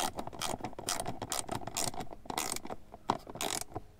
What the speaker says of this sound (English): I'm going to go ahead and re-tighten that nut.